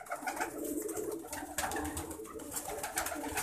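Soft, repeated pigeon coos close by, a low warbling call recurring against faint background noise.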